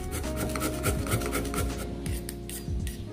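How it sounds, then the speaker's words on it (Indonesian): A medium potato is rubbed against a grater in quick, repeated rasping strokes, close and continuous, with no talking. "Kemudian kita parut terlebih dahulu kentang ini."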